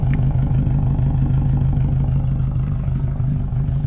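A Subaru STI with a 3-inch straight pipe exhaust, stock headers and stock cat pipe sits idling, giving a loud, steady, deep burbling rumble with a slightly uneven, clattery pulse close by for the whole stretch, with no one talking.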